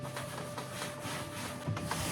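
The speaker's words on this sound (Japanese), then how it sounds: "以前パレットで作ったテーブルにワックスをかけています。" Soft, continuous rubbing as wax is worked by hand into the sanded surface of a table built from wooden pallets, a quiet, even scrubbing texture with slight swells near the end.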